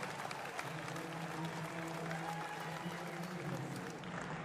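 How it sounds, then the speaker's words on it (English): Audience applause at a military powerlifting competition, a steady wash of clapping from the crowd for a Canadian lifter in the men's 88 kg class, moderately distant, with a faint voice and tonal hum underneath. "Round of applause, Ian Blado from Canada"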